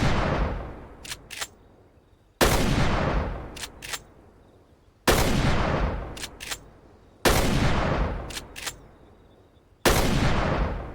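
Five heavy, evenly spaced blasts from a Remington shotgun in a video game DLC weapons pack, each with a long decaying echo, and mechanical clacks of the action between shots.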